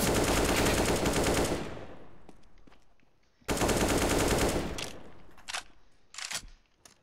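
Automatic gunfire in Counter-Strike: Global Offensive, two long rattling bursts with ringing tails, followed by a few short scattered shots.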